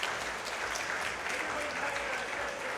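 Steady applause from a crowd at a Dragon Ball FighterZ fighting game tournament, a dense even wash of clapping held at constant level throughout, heard somewhat distant.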